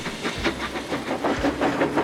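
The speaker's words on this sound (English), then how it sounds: "the saddle tank and tram engine went back to work" A saddle tank steam locomotive and a tram engine chuff along with rhythmic hissing bursts and a faint rattle of wheels, steady and fairly close.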